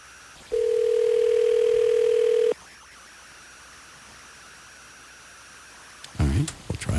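A steady telephone dial tone holds for about two seconds at an even pitch, then cuts off abruptly, leaving quiet hiss before a brief burst of voice near the end.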